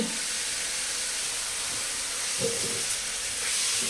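Garlic and meat sizzle in hot oil in a pan, giving a steady, close, hissing fry that holds evenly throughout with a few faint clatters.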